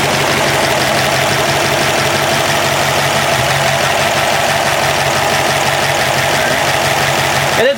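A Ford Y-block V8 in an F100 truck idles steadily and loudly, with a dense, slightly knocking mechanical clatter that runs unbroken throughout.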